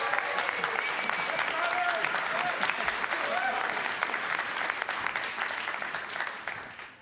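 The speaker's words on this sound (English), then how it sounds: "So cheer him as he runs onto stage." Audience in a hall applauding and cheering as a speaker runs onto stage, dense steady clapping with a few voices rising through it before tapering off at the end.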